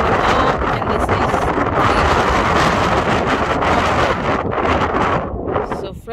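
Strong wind buffets the microphone in a loud, continuous roar that surges and eases slightly, with no other clear sounds, on a mountain summit in the Scottish Highlands.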